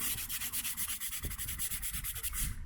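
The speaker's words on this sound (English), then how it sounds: "I'm going to take the brush that we have here, this Amazon brush, and I'm really going to scrub this right side in" A brush scrubs the grout lines of driveway paving in quick, rhythmic back-and-forth strokes, each one a loud, close, gritty rasp.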